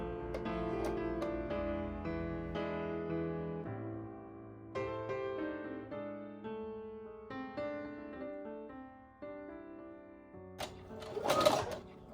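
A friend's sewing machine runs just after cleaning and oiling, stitching in steady rhythmic bursts with brief pauses, ending in a short sharper clatter.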